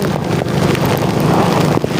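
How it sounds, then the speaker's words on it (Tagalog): Loud, constant wind roars and buffets across the microphone, a dense rushing noise with no talking. "Salubungin natin ang malalakas na hangin at malakas na ulan."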